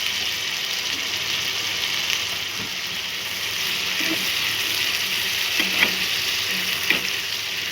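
Masala roasts in oil in a pan, giving a steady, even sizzle with a few faint spoon taps over a constant background hiss, no talk.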